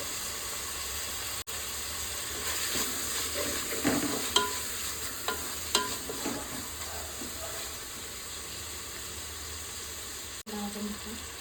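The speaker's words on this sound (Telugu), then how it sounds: "ఈ టమాటా కొద్దిగా మెత్తగా అయ్యే వరకు ఫ్రై చేసుకోవాలి" Tomatoes with turmeric fry in a pan, a steady hissing sizzle with scattered stirring scrapes, and faint voice activity appears in places.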